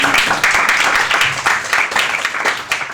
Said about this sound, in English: Can we get a round of applause for that, please?